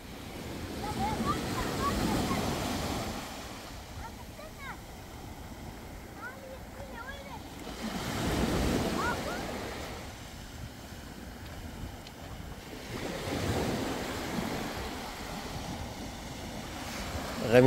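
Broad ocean surf washes in three swells on the coast of Donegal, Ireland, each rising and fading, with wind noise and distant voices of swimmers shouting between the waves.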